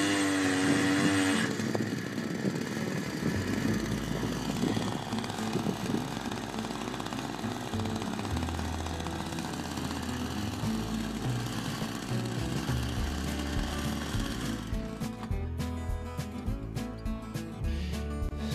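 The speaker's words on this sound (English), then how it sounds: "Now just to drill some holes in the ground to set the posts in." A powered auger bores post holes in the ground for a greenhouse build, its engine droning loudly and steadily throughout, the pitch shifting as the load changes. No one speaks.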